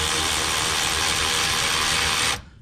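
A hand ratchet tightens a clamp during front hub and driveshaft work on a Ford Super Duty 4WD truck. It makes a close, rapid, continuous clicking whir that stops abruptly, with no voices.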